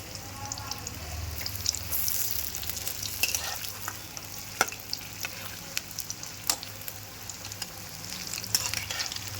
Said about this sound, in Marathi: ह्याच्यामध्ये डिप करून मस्त आपली भजी फ्राय होत आहे